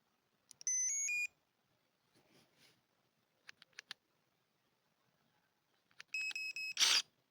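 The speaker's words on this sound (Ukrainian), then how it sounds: "У мене в руках акумуляторний секатор з Китаю, тобто Аліекспрес." Cordless battery pruning shears from AliExpress being switched on: a short multi-tone electronic startup beep, a few faint clicks and handling taps, then another beep sequence and a brief whir at the end, quiet and close.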